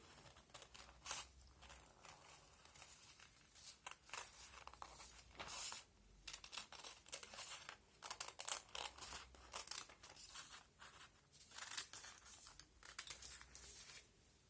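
Scissors snip and slice through paper in irregular bursts while cutting out a mitten shape, crisp rustling cuts close by with brief pauses between strokes.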